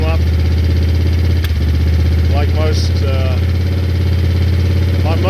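A Moto Guzzi Eldorado motorcycle engine idles steadily while warming up cold, a constant low throbbing running throughout with someone talking over it.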